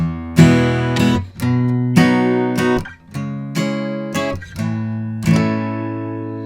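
Several strummed guitar minor chords, roughly seven hits in an uneven rhythm, each ringing a moment before the next; close, clear and with no talking.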